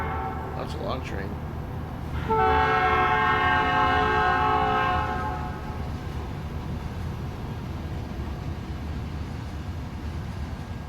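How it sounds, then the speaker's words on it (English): A long train's horn sounds in American Truck Simulator, a sustained multi-tone blast of about three seconds over a steady engine rumble, with voices talking at the start. "That's a long train."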